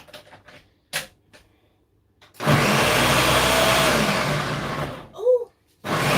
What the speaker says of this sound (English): my blender is really loud